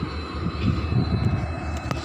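Tirunelveli–Chennai Egmore express train passing close by, a steady loud low rumble of wheels and carriages running continuously with a faint rattle, no voices.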